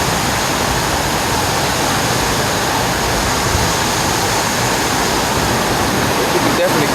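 Waterfall in Portland, Jamaica, a steady, loud, broadband rush of falling water filling the whole clip without pause, close by and continuous.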